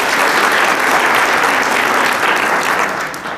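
Sustained applause from an audience at a state association business meeting, dense and steady clapping filling the room for several seconds before easing slightly at the end.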